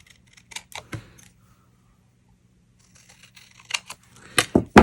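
Scissors cut through cardstock in a few short crisp snips, a pair near the start and a louder cluster at the end, with near silence between them.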